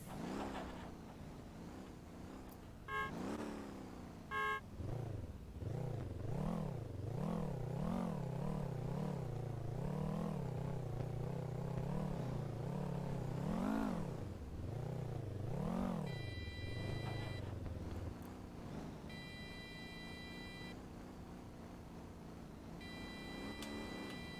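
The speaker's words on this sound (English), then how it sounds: "I still need to turn the engine on. Okay, time to do so." A car engine starts and runs in the video game Motor Town, rising and falling in repeated revs with a rumbling tone, joined by occasional ticking, heard alone at moderate level.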